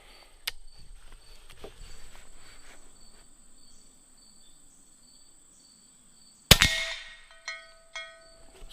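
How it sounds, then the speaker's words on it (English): Air rifle, an Umarex Origin, firing a pellet at a cowbell target: a sharp crack early, then later a loud metallic clang that rings out with a decaying tone, over quiet outdoor background with insects chirping. "we got to start off with a little cowbell"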